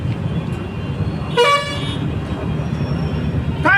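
Busy street traffic rumbles steadily while car horns toot in two short bursts, one mid-clip and one at the end, with voices talking faintly underneath.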